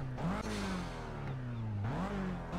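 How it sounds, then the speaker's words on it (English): KTM X-Bow sports car revving in the Project CARS racing game, engine note climbing and dipping through two or three rev sweeps, loud and continuous with no talking. "When we're revving, making about 100 horsepower."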